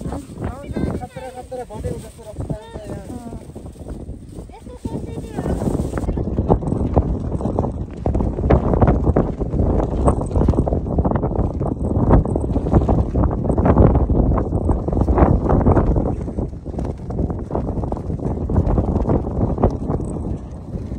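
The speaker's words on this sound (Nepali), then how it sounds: "हावा यस्तो बेसकारी चलिरहेको थियो कि हावाले मलाई हानिरहेको थियो धकालिरहेको थियो" A strong wind buffets the microphone outdoors with loud, continuous roaring gusts. After a quieter start, the blowing grows heavier and stays heavy, and a voice speaks over it.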